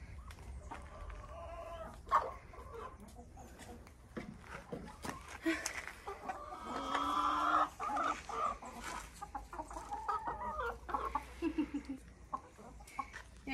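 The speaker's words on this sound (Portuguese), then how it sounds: "E as nossas galinhas estão aí." Backyard chickens cluck softly and intermittently, with occasional sharper calls, under faint ambient noise and scattered background sounds.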